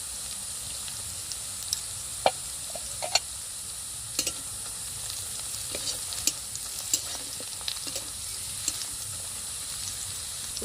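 Browned onions frying in a pan with a pinch of chili powder added, a soft steady sizzle broken by occasional sharp scrapes and taps of a stirring spoon.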